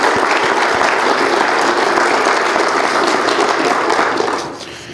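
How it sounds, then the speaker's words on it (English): A church congregation at a worship service applauds the youth in a dense, loud wash of clapping that holds steady and then tapers off in the final moment. "So let's give a round of applause to the youth who did this."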